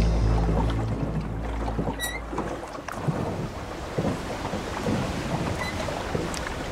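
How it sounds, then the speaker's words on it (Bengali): Heavy rain and gusting wind roar continuously, with low thunder rumbling through the storm. "ঝড় শুরু হলো। ঝিরিঝিরি বৃষ্টির সঙ্গে বজ্রবিদ্যুৎ"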